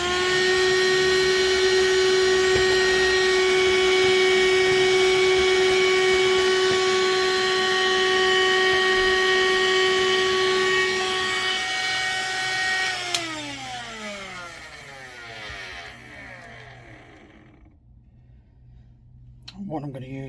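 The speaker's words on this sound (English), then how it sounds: "I'm just going to vacuum that, so anyone with earplugs in, beware." A vacuum cleaner cleaning model railway scenery whines loudly and steadily up close, then switches off and its motor winds down, leaving near silence.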